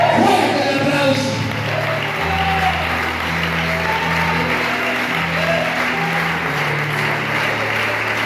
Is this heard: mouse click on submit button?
no